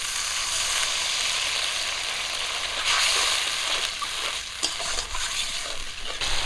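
Water is poured into hand-ground spice paste frying in oil in a rustic kitchen. It gives a loud, steady hiss and sizzle, with a few splattering pops toward the end and no talk.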